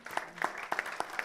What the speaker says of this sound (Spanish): Le damos un aplauso al Señor, hermano.